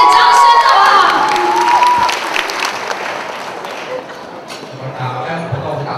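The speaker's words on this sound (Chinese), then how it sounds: "现场来给他热情的掌声，好不好？" Wedding banquet guests in a hotel hall applaud and cheer loudly at first, clapping thinning into crowd murmur and scattered shouts, with a host's amplified voice over it.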